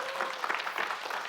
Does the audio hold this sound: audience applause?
yes